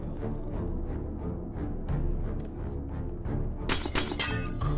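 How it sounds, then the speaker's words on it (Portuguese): Minecraft zombies break glass windows, producing repeated crashing and shattering clinks over a dense, steady background din, with brighter glassy smashes toward the end. "Eles estão quebrando os vidros?"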